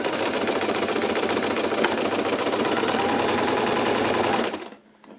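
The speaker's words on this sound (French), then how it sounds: "positionne donc son tissu dans la machine à coudre" A sewing machine stitches a straight seam along the fabric of homemade overalls, a loud, close, continuous whir that stops abruptly near the end.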